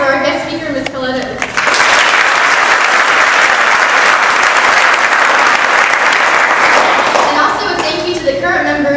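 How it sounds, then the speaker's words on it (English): A voice speaks over a school ceremony hall before an audience at a National Honor Society induction bursts into loud, sustained applause for a guest speaker, which fades as talking resumes near the end. "And a round of applause for our guest speaker, Miss Carletta"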